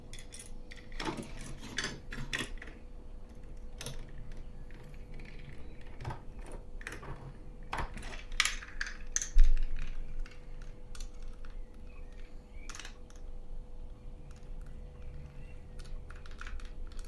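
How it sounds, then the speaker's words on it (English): Small machine screws driven into the top and bottom joining points of a plastic model kit part, giving quiet repeated clicks and scratchy turning sounds close by, with no talking. "use two of the machine screws to assemble through the top and the bottom"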